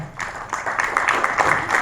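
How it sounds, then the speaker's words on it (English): An audience applauds at an event in a hotel, a dense clapping that swells over the short span with even rhythm and moderate loudness. "we would like to hear many applauses as we go along"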